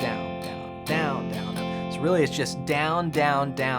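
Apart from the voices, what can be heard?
No everyday noises stand out.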